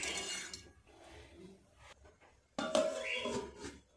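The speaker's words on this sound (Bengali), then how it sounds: "চাপা দিয়ে দেবো, তাহলে খুব ভালোভাবে সবজিগুলো সিদ্ধ হয়ে যাবে" A lid is set onto a pot of vegetables, with soft handling noises followed by one sharp metallic clatter and a short ringing rattle, close by.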